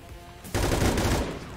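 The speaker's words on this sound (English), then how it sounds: "Fire your weapon, Hobbs!" Sustained burst of automatic gunfire from a soldier in XCOM 2, starting abruptly after a quiet lead-in and rattling loudly to the end.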